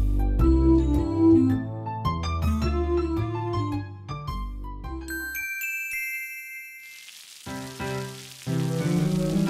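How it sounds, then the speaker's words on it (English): A bright tinkling chime rings out as the page-turn signal in a children's read-aloud book. It follows a short stretch of gentle instrumental music and then fades under it again, with no voices. "When you hear this sound, it's time to turn the page."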